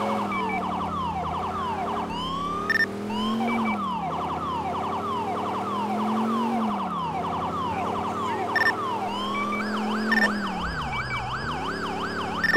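Ambulance siren in the video game GTA 4, a loud wailing and yelping electronic siren that sweeps steadily and then switches to a faster warble, with no talk over it.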